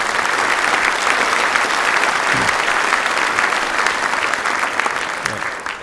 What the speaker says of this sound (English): please, again, let's give them all a round of applause